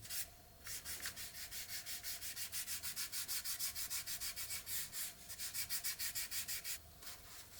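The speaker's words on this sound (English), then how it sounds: "I wet sanded the varnish with 3000 grit sanding sponge" Wet sanding of varnish with a 3000 grit sanding sponge on a 1/24 scale Tamiya Porsche 959 model body, giving quick rhythmic back-and-forth rubbing strokes, close and soft, with two brief pauses.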